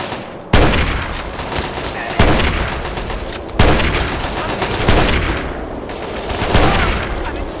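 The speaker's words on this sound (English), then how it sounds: "looks like somebody's shooting at somebody" Heavy gunfire erupts in a Fallout 3 firefight, with several loud bursts roughly every one and a half seconds over a continuous rattle of shots and a distant battle din.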